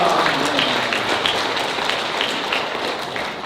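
Steady applause from a crowd fills the whole stretch, dense and even with no break.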